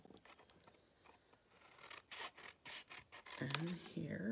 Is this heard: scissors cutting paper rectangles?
yes